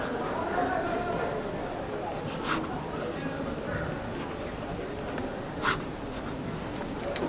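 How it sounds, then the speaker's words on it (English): Pen or pencil writing the quadratic formula by hand on paper, a faint continuous scratching close to the mic with a couple of brief sharper strokes. "Write your quadratic formula."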